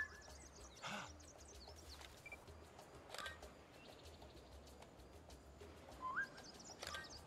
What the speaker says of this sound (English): Found ourselves a little bird.